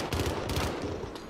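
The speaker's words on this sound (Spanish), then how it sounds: "1000 tiros le acabo de dar a esto." Rapid gunfire in the video game Call of Duty Modern Warfare, a dense burst of automatic shots rattling continuously and loud throughout.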